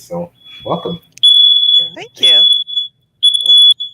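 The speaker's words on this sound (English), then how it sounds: "That is my fire alarm." A home fire alarm sounds piercing high electronic beeps, one long tone and then several shorter bursts, loud and close, cutting between people talking in a conversation.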